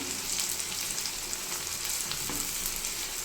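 Onions frying in hot oil for chicken biryani, stirred with a ladle: a continuous bright sizzle at close range, steady and unbroken, with faint scrapes of stirring underneath and no voices.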